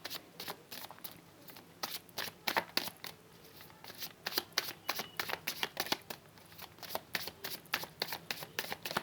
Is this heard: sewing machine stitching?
no